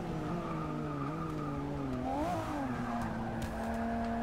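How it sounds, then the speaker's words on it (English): Ferrari race car in Forza 6 passing at speed, a steady engine whine with shifting pitch and a brief swell as it goes by, joined by tire squeal and other cars in an online race, with no talking. "Coming past in another Ferrari."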